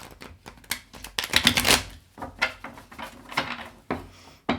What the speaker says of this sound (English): One more pre-shuffle.